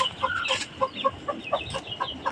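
A small broody native hen clucks in a series of short, evenly spaced calls, close and clear, with no one speaking.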